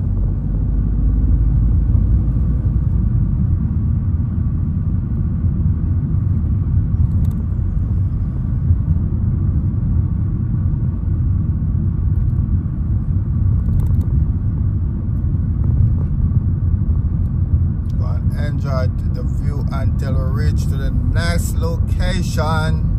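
A car drives along a road in France, its engine and tyres giving a steady, loud low rumble that carries on without a break. Near the end, faint ticking and rattling sounds rise above the road noise.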